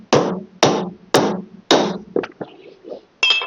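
Hammer blows countersinking fasteners on a stair runner install: four sharp, loud, evenly spaced strikes, then a few lighter taps and a faint metallic clink, with no talking.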